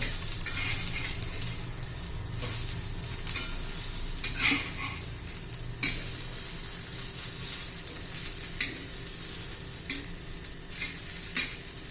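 Fasting-meal vadis pan-roast in oil after being flipped, giving a steady sizzle with occasional light clicks and taps of a utensil against the pan.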